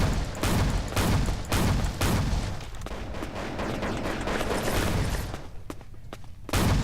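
Enemy gunfire in the VR shooter Crisis Action: loud, repeated bursts of shots cracking close by, with quieter stretches and a few sharp reports near the end.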